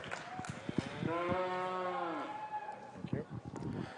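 A single cow lows in a long, strong moo at a cattle show ring during a Shorthorn class at the Expo Boeuf fair, with faint clatter and arena noise before and after.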